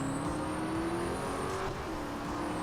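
Race car engines from the Real Racing 3 video game, a continuous loud whine of revving motors with a steady droning tone and shifting pitch, with no talking.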